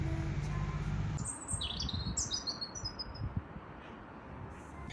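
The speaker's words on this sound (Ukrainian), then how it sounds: "тільки послухала, як там співають пташки" Several high bird chirps and short song phrases over low background rumble and noise in Aix-en-Provence, France, fairly faint and not very close.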